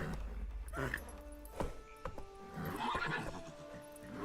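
Roach, a horse in the video game Witcher 3: Wild Hunt, gallops with rhythmic clip-clop hoofbeats and lets out loud, drawn-out neighs and whinnies amid game ambience.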